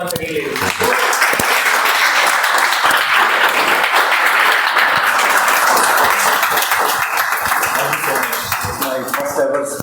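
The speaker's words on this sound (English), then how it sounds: "A better round of applause once again" Audience at a Toastmasters speech-marathon meeting breaking into lively applause, dense hand clapping sustained for nearly ten seconds at close range, with scattered voices mixed in.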